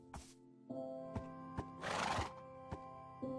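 A video-game horse gives a loud, close, shrill whinny in the middle, with sharp single hoof clops and thuds before and after it. No one speaks.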